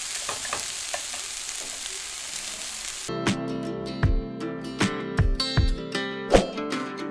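Whole spices, black cardamom, black pepper and cinnamon stick, sizzle in a pan for chicken yakhni pulao, a steady hiss that gives way to several sharp clinks and scrapes from stirring, close and without talk.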